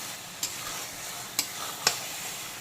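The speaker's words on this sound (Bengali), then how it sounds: "মিডিয়াম টু হাই ফ্লেমে অল্টারনেট করে করে ঝিঙেগুলোকে মশলার সঙ্গে কষিয়ে নেব" Ridge gourd stir-fried with spices over a medium-high flame: a soft, continuous sizzle punctuated by three distinct scraping stirs of a spatula against the pan.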